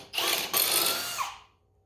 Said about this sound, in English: We're going to take our bigger step bit and we're going to upsize this hole now